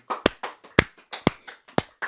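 A congregation claps at a midnight prayer service during a worship song. Crisp, close claps fall at an even, brisk pace with softer hand sounds between the loud beats and no voices.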